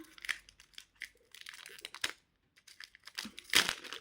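Mario trading card packets being torn open by hand, with close crinkling foil wrappers and sharp ripping bursts in short irregular spurts, and no speech.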